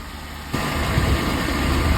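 The engine of a 1995 P30 Winnebago RV idles indoors with a steady, dense low rumble that steps up slightly louder early on and then holds even, with no voices.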